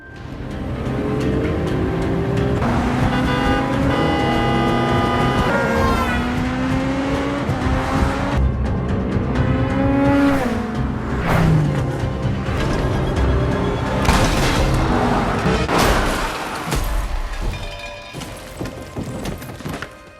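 A motorbike chase in an action film, with engines roaring and revving continuously, tire squeals and sharp impact hits layered over a dense, loud film score that fades toward the end.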